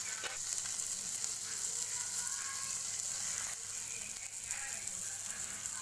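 Village-style fish fry crackles in hot oil with a dense, even sizzle and a few scraping touches of a utensil in the pan. The sound stays steady, close and unvoiced.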